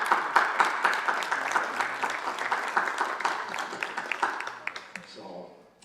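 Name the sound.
audience applauding parents and families at commencement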